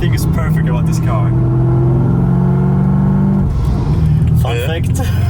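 A loud supercharged BMW E90 M3 engine rumbles and revs with a rising supercharger whine, swelling and easing as it runs, close by and continuous.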